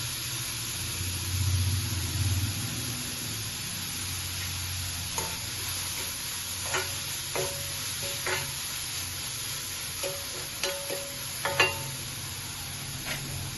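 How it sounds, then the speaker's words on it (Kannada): Onions with salt fry steadily in a pan, a continuous close sizzle with occasional light clicks and scrapes of stirring scattered over the hiss. "ಈ ಸಮಯದಲ್ಲಿ ಸ್ವಲ್ಪ ಈರುಳ್ಳಿ ಬೇಯಕ್ಕೆ ಉಪ್ಪು ಹಾಕೊಳ್ತಾ ಇದ್ದೀನಿ."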